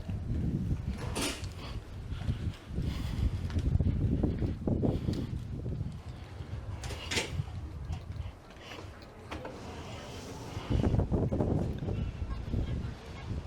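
Wind roars across the open outer deck of the Norwegian Gem cruise ship, buffeting close to the microphone in a loud, uneven low rumble with gusts swelling and easing throughout and no one talking.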